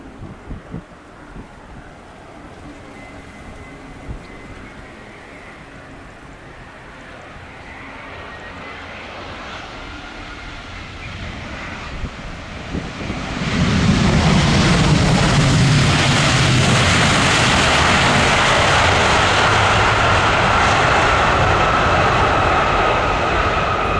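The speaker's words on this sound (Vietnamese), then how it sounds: "mời mọi người chiêm ngưỡng pha hạ cánh của chiếc máy bay này trong điều kiện thời tiết gió lớn" A China Airlines airliner landing at Tan Son Nhat airport in strong wind, a steady distant engine roar that swells sharply and loud partway through as the jet nears and touches down, with wind rumble throughout.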